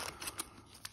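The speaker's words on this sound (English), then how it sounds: "Have to be quite careful also with the scissors opening these." Scissors snipping open a Pokemon 151 booster pack, a few quick, close, crisp cuts in a quiet room.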